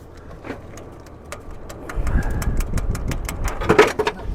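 Ford F600 truck engine idling after starting outdoors in strong wind, a low rumbling idle that grows louder partway through, with gusty buffeting over it.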